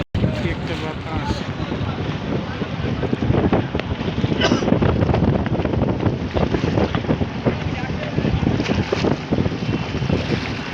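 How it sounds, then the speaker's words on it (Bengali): Wind gusts steadily across the Buriganga river in Dhaka, a loud, continuous rumbling buffet over an open boat with faint water wash beneath and muffled voices now and then. "একটা বাতাস"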